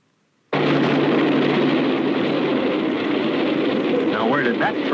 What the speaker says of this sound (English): As this train approaches, let's see how close it comes before we hear it.